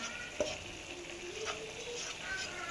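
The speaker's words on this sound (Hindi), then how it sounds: "तो इसे हमने हल्की आंच पे फ्राई करना है" Butter and flour (maida) frying gently on low heat in a pan for a lasagna white sauce; a quiet, steady soft sizzle with a few faint stirring scrapes, no talking.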